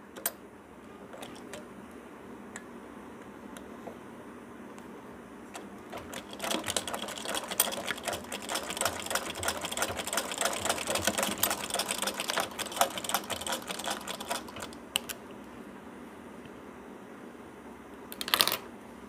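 A sewing machine stitches a folded seam on a baby girl's night dress, a rapid steady mechanical whirring ticking that builds midway and runs about ten seconds, with faint clicks before and after and a brief louder burst near the end.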